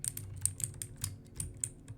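Rapid typing on a very clicky computer keyboard, a quick uneven run of sharp close keystrokes, about a dozen clacks in two seconds, heard alone.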